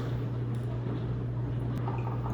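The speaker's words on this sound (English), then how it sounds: "just whisk everything together. I'm gonna use the baby whisk" Cupcake batter being whisked with a small whisk, a soft, continuous wet squishing and dripping churn, steady and close, under a low constant hum, with no talking.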